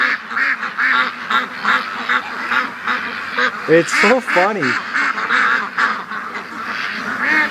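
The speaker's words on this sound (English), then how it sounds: "They've circled the whole house and they're just quacking like crazy" A group of ducks circling a house quack loudly and almost nonstop in an excited, overlapping chorus close by, while a person speaks over them.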